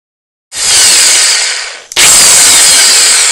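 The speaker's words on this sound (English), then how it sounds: "about drilling the hole in the pans, because that's going to help create airflow as well" A power drill with a roughly 3/16 inch bit bores holes through metal pans for a DIY window solar heater, giving two loud, steady bursts of high whirring, the first fading briefly before the second starts.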